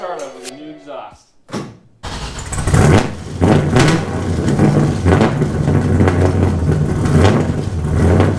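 An LS V8 with a new exhaust in a Nissan 240SX S13 fires up after a voice speaks at the start, then settles into a loud, rumbling idle with a few sharp revs close by.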